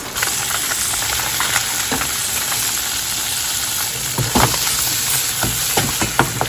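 Onions, garlic and pepper frying in a pan for a vegan Caribbean Sunday dinner give a loud, steady sizzle with scattered crackles and stirring clicks, close up and uninterrupted.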